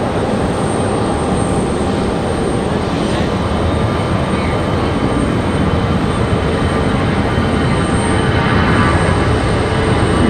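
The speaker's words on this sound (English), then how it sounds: "Here goes our A319." An Airbus A319 airliner at Raleigh-Durham airport, a loud continuous engine roar and broadband rush holding steady throughout, close by with no talking.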